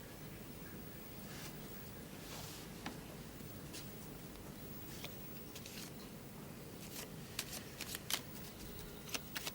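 A pack of playing cards shuffled repeatedly in a quiet room, the soft riffling steady throughout and sharper snaps of cards near the end, with no talking.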